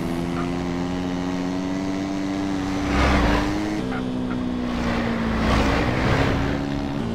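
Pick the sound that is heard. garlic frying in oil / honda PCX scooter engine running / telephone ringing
honda PCX scooter engine running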